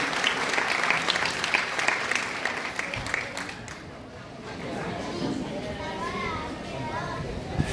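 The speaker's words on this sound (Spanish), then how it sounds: "fuerte el aplauso para Luis" Audience applause for a man named Luis at a Christmas food-basket handout in Tierra Blanca, steady crowd clapping throughout with children's voices and chatter mixed in, thinning briefly near the middle before picking back up.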